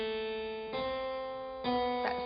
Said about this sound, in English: Bach spelt on the keyboard